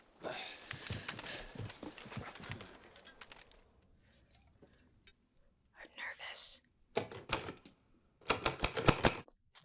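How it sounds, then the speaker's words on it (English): A typewriter in a World War II film scene clatters through a report, with bursts of rapid keystrokes broken by pauses and the occasional carriage sound, set among quiet background sounds and low murmured voices. "have him typing out the report"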